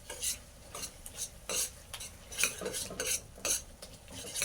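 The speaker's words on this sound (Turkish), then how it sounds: "Güzelce de kavrulsun. Soğanıyla, salçasıyla." Onion and tomato paste sautéed together in a pan, a utensil scraping and stirring in repeated strokes with metallic clinks, close and clear, no talking over it.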